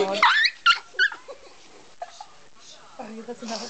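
A small dog makes a string of odd yips, whimpers and squeaky vocal noises, close and fairly loud in short bursts, with a person talking between them.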